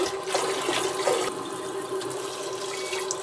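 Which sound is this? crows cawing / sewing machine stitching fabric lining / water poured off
water poured off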